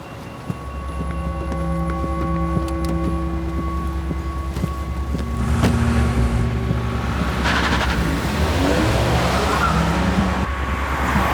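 A car travels along a road with a steady engine and road rumble throughout, a low tonal hum joined by a rising whoosh partway through, suggesting a tense drive at speed.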